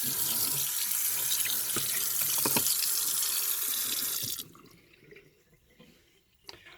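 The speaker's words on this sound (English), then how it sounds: "you see this running water?" Water gushes steadily from a kitchen faucet as a loud, broad hiss, then cuts off abruptly, leaving quiet room tone and a few faint drips.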